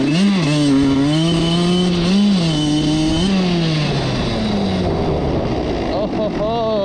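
Dirt bike engine revving up and pulling away as the rider sets off, a loud, close motor whose pitch climbs and dips through several throttle surges before settling into a rougher, busier roar.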